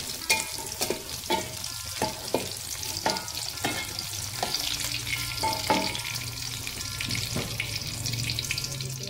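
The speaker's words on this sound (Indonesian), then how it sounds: "sambil terus diaduk untuk meminimalisir terjadinya cipratan-cipratan minyak" Mie goreng ingredients stirred and frying in hot oil, with a steady crackling sizzle and repeated scraping of a spatula against the pan, close and continuous with no talk.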